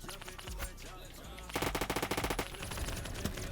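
Rapid automatic gunfire in a Roblox shooter comes as a tight string of sharp, evenly spaced shots fired through a wall. The burst lasts about a second, with quieter game sounds before and after.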